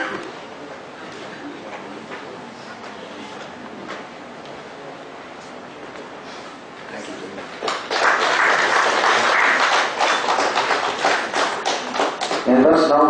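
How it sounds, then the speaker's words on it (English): Audience applause at a seminar on artificial intelligence in analytics and audit, starting as scattered claps and then swelling into loud, sustained clapping over the last five seconds of the clip. "A big applause, members."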